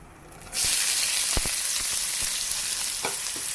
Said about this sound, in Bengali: এখানে একটা পেঁয়াজের হাফ কেটে রেখেছিলাম আমি আর একটা রসুন এখন এটাকে আমি ভেজে নেব